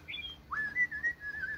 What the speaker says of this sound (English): Oh my, a meadowlark.